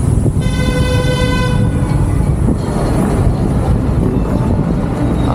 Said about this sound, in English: who's honking at who